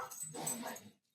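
A puppy yips and whimpers faintly in the background, one short high-pitched burst lasting about a second and ending abruptly.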